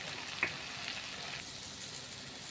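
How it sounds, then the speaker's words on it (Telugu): Tomato, onion and garlic fry in a pan, making a faint, even sizzle that continues throughout, with one small clink near the start and no talking. "టమాటా, ఎర్రగడ్డ, తెల్లగడ్డలు వేగిపోయాయి"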